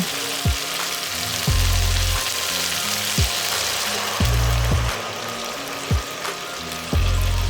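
Fried masala for katla fish sizzles loudly in a pan while hot water is poured in and stirred, giving repeated bursts of hissing with low rumbling surges between sharp clinks, no voices.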